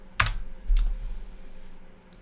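Two crisp computer keyboard keystrokes ring out near the mic, followed by a faint fading hum in an otherwise quiet room.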